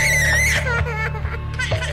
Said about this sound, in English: Her daily screaming fits have taken over the life of her mum